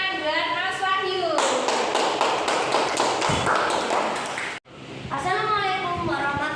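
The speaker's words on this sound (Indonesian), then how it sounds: "tepuk tangan buat Mas Wahyu." Audience applause at a spoken presentation: a dense burst of clapping lasts about three seconds, cut off abruptly, with someone talking before and after it.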